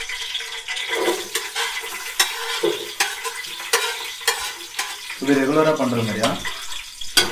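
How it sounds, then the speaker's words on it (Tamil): Onions sautéing in a pan for chicken biryani, a steady sizzle broken by repeated scraping strokes of a stirring spoon, with someone talking over the cooking. "இப்போ இது வெங்காயம் வதங்கணும், ஓகே ப்ரௌன் ஆகணும் கொஞ்சம்"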